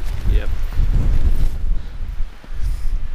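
Wind buffets the microphone with low rumbling gusts on a New Hampshire mountain in January, steady and fairly loud outdoors, with faint voices mixed in.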